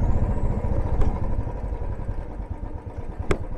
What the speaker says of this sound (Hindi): तो यार बाइक को तो अपने नीचे पार्क कर दिया है